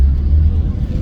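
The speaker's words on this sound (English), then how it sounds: "I think it's time to take this lovely little car for a test drive." An Austin Rover Maestro Clubman car drives on a road, giving a loud, steady low engine rumble with road noise throughout the short stretch.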